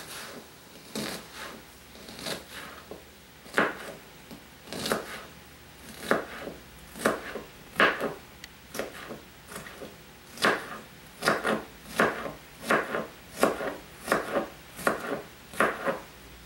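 Knife chopping food on a wooden cutting board while fajitas are prepared: steady rhythmic cuts, about a dozen and a half crisp, fairly close knocks at an unhurried even pace with no talk.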